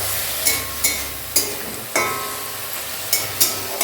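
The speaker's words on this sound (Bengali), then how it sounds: "জিরে শুকনো লঙ্কা ফোড়ন দিয়ে এই মোচাটা এখন একটু ভেজে নেব" Boiled banana flower frying in a pan with cumin seeds and dried chilli, a steady hiss of sizzling oil broken by regular clanks and scrapes of stirring, close and fairly loud.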